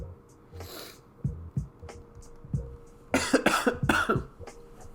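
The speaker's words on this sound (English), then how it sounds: "this cough is killing me, man" A man coughs several times indoors, a few isolated hacks followed by a louder burst of rapid coughs near the end, with faint speech-like throat sounds between.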